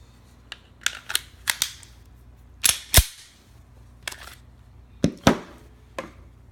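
A Smith & Wesson M&P 9 Shield pistol being loaded: a run of sharp metallic clicks and snaps at irregular spacing, some doubled, with one heavier clack near the middle, close and clear with no talk.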